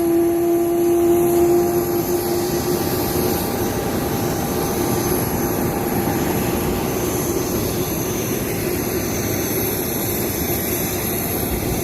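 A loud jet aircraft engine roars steadily beside the Las Vegas Strip, a dense, continuous rumble with a sustained tonal whine that holds for the whole stretch without letting up.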